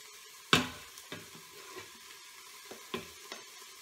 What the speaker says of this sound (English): We're gonna let that saute for a couple minutes.